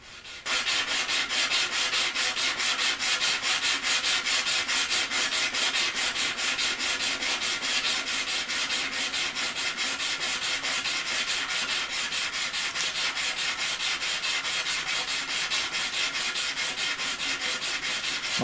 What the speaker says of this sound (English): First I'm going to show you how to sharpen the cutter